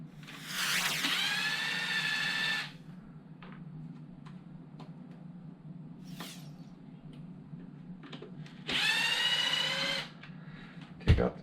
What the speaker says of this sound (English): Take out the 2 screws.